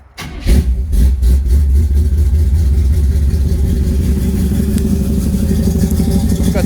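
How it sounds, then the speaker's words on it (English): A 1955 Ford F-100 hot rod V8 with Flowmaster Series 40 mufflers cold-starts with a brief crank, then catches and settles into a loud, lumpy, rumbling idle close by. "And I'll give you a cold start up"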